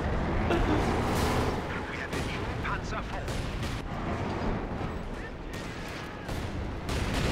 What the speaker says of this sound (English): Oh, here comes the artillery.